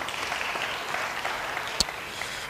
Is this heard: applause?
yes